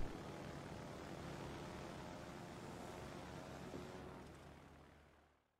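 Propeller aircraft squadron launching from a carrier in World of Warships Legends, a steady droning engine roar that holds fairly level and then fades out near the end.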